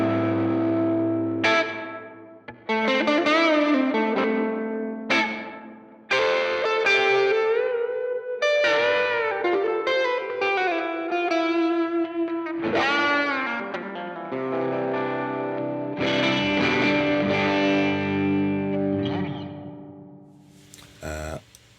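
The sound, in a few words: long stereo reverb effect on Two Notes Torpedo Captor X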